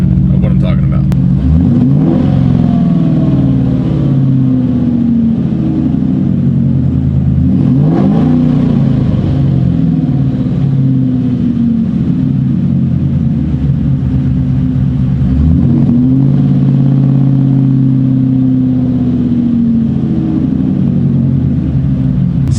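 Ford Mustang GT engine hanging at high RPM, a loud sustained mechanical drone that holds steady with brief rising sweeps every few seconds, continuing without any spoken voice.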